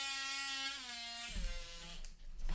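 A cordless battery drill whirs briefly near at hand, holding a steady whine that steps down in pitch twice before cutting off into a short rattle.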